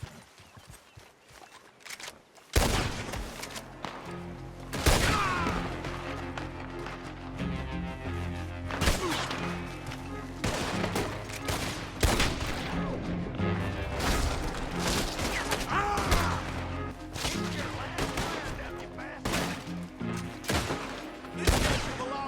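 Gunfire in the video game Red Dead Redemption 2, starting after a quiet opening with repeated loud shots and booming reports spread irregularly across the stretch, with echoing tails and some faint background voices.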